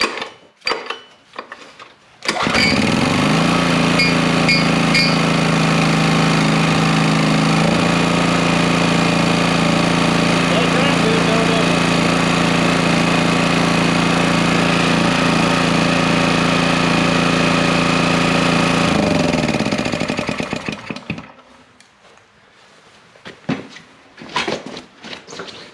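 An old Honda EX1000 portable generator engine catches after a pull with the choke set, runs loud and steady for about eighteen seconds, then dies away, followed by a few faint knocks and handling noises.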